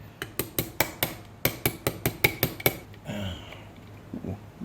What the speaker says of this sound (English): So I got my little brass hammer and my punch.